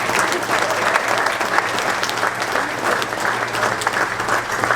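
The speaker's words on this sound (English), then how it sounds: "give yourself a big round of applause" An audience at an Air Force football presentation applauding loudly, a steady wash of clapping filling the whole stretch with faint voices mixed in.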